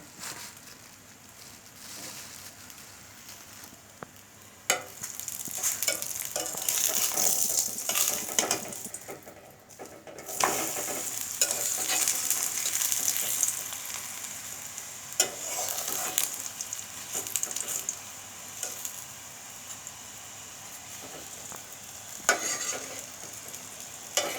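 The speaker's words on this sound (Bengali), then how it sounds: "পরোটা ভাজছি চর্বি দিয়ে পরোটা ভাজছি দেখেন" Paratha frying in animal fat, a steady close sizzle broken by scraping and clinking of a turner against the pan, some surges louder than others, with no talking.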